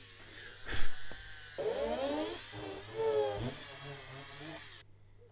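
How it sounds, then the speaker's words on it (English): A small hobby drill bores holes in a 1/200 scale HMS Hood model ship, its high whine steady throughout, with the pitch wavering as the bit bites in, close and fairly faint, then it cuts off. "So I just need to drill some holes."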